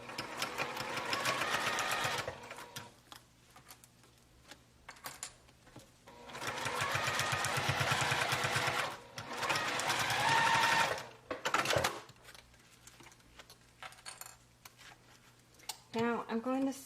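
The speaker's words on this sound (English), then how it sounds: "I'm going to go to my sewing machine and I'm just going to sew a line of stitching 1/4 of an inch away from the side" Sewing machine stitching a line along the pleated side of a homemade HEPA fabric mask, running in steady motorized bursts with pauses between them, close and fairly loud, with a person talking in the gaps.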